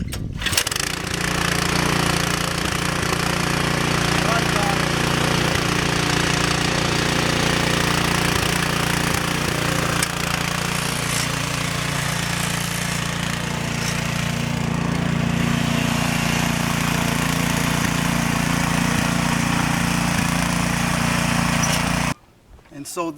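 A garden tiller engine, freshly tuned up, starts and runs steadily for about twenty seconds, a loud close buzzing drone with a small pitch change midway, before cutting off, with a voice speaking over it.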